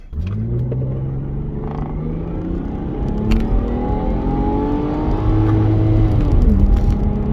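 A Lexus IS200 car engine revs hard and pulls away from a standstill, its pitch climbing steadily through gears with a whirring drone, loud and close throughout.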